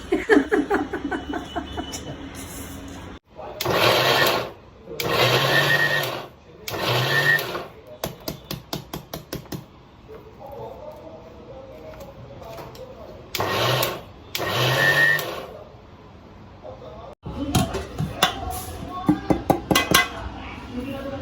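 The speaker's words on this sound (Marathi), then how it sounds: "हे सगळं मिश्रण आम्ही आता थोडं मिक्सरमधून फिरवून घेणार" A mixer grinder grinding a fenugreek, edible gum and jaggery ladoo mixture runs in several short pulsed bursts, stopping and restarting, with clinks and a voice in the gaps.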